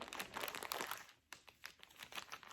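Disposable gloves are pulled from a crinkly plastic package at a barber exam station, giving faint close-up crinkling and rustling in short bursts with a brief pause partway through.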